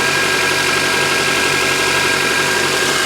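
A Honda Accord engine runs at a steady idle close by, after a VTEC spool valve replacement, giving an even mechanical hum with faint ticking and no voices.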